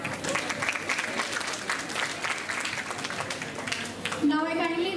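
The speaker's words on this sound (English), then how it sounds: "Let us give them a big round of applause." Warm audience applause at a school Republic Day patriotic song and dance competition, steady clapping throughout with a voice starting to speak over it near the end.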